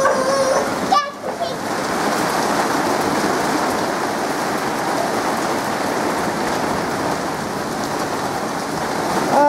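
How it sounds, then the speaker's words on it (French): A sudden storm brings heavy rain pouring down in a loud, dense, unbroken roar close by, with a brief voice near the start. "il y a une tempête d'un coup qui est sortie les gars"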